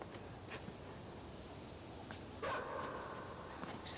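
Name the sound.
dog barking in the video game Inside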